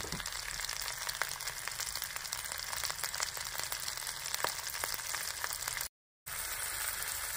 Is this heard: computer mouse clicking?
no